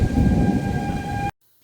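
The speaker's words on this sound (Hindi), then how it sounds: "पूरे साल जब भी बारिश आती है ऐसे यहाँ पे लाइटनिंग गिरती है" Thunder from a lightning strike during rain in Texas rumbles as a loud, close roar, with rain noise over it, for just over a second before it cuts off suddenly.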